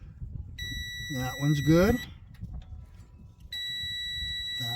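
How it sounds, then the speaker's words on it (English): A multimeter on continuity setting beeps in steady tones while testing fuses, with a short beep early and longer sustained beeps later, close and clear, as someone talks between them. "you can put check continuity on them and it'll beep"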